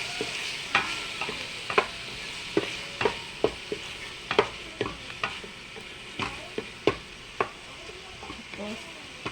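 Chopped tomatoes frying in a pan for a sinigang na bangus sa miso, with a steady sizzle and a run of sharp, evenly spaced scraping and tapping strokes as a utensil stirs them, close and fairly loud.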